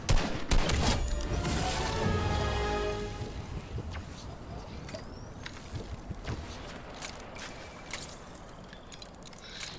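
Weapon fire in a video game: a dense burst of rapid shots in the first seconds, then scattered quieter reports and game noise through the rest, with no talk.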